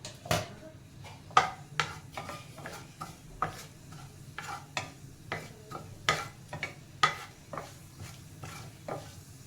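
Cumin seeds, about a teaspoon, added to hot oil in a pan for Punjabi Pindi chole, with a soft sizzle under repeated sharp stirring and utensil clicks close by, no talking.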